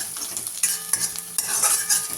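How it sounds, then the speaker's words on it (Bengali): Onion fries in a pan for fried rice, a close sizzle broken by the clink and scrape of a spatula stirring against the metal. "এই যে বসিয়ে দিয়েছি, পেঁয়াজটা ভাজা হচ্ছে"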